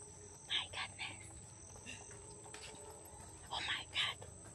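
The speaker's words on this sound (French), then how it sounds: "on a commencé à entendre les singes hurleurs" Distant howler monkeys roar in a couple of deep, rising bursts over a steady drone of insects in a humid forest. Recorded at a zoo in French Guiana.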